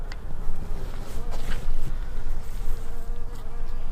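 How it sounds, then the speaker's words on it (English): Honeybees buzzing around beehives, with dead bees strewn on the ground nearby: a dense, steady, close swarm drone that swells and fades slightly, with no talking. "Got lots of bees that have been pulled out."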